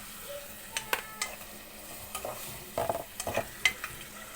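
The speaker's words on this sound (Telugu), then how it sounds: "ఇదిగోండి, టమాటా ఉల్లిగడ్డ వేగుతుంది కొద్దిగా" Tomato and onion fry gently in a pan with a soft, quiet sizzle, broken by a handful of sharp scrapes and clinks as a spoon stirs and knocks against the metal.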